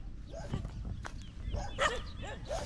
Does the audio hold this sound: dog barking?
yes